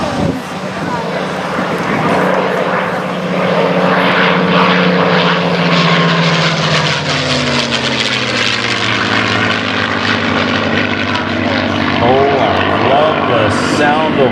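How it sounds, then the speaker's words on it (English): A Rolls-Royce Merlin aircraft engine on a historic warplane roars loud and close with a deep, steady throb that shifts in pitch as it passes, with a voice speaking over it at an aviation day event. "Sound of a Merlin on a Saturday afternoon"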